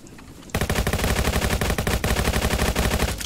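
Rapid, loud automatic gunfire in the Roblox game Jailbreak, a dense continuous burst that starts abruptly after a brief quiet moment and keeps firing without pause to the end.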